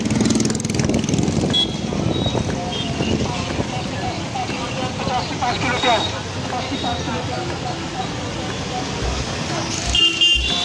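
Dense traffic jam in a busy market area, with engines idling and revving, occasional horn toots and a constant crowd din throughout.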